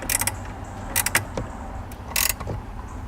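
Wrench tightening a bolt on the ground wire of a 2018 Jeep JL during a running board installation, with a few short metallic clicks and ratcheting bursts amid faint mechanical rattling.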